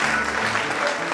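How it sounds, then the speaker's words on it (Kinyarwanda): Dense, steady applause from a wedding gathering fills the whole moment, loud and close with no pauses, with a faint tonal murmur underneath. "Imana amashyi menshi cyane"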